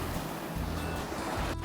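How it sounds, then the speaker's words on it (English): Waves washing onto a Lake Michigan beach in a continuous broad rush with wind, a steady surf roar and no one talking. "the waves are definitely a little bit of something today for Lake Michigan"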